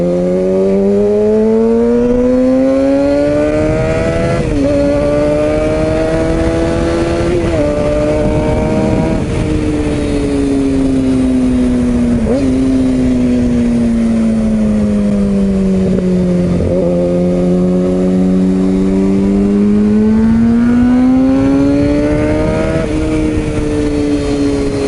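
A Kawasaki ZX6R motorcycle engine while riding, droning loud and steady with pitch rising and dipping through several gear changes, with wind rush throughout.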